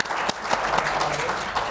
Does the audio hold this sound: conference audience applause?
yes